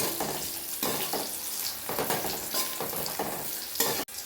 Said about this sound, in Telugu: ఆనియన్స్ వేసుకోవాలి, ఇప్పుడు ఫ్రై చేసుకోవాలి ఆనియన్స్.